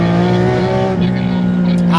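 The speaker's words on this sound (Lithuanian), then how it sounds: "geriausias dalykas tai yra mašina, kuri gražiai skamba" A car engine hums loud and close in a smooth, steady tone with a slight shift partway through, and a voice may be mixed in.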